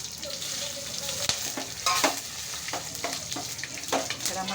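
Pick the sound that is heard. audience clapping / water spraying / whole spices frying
whole spices frying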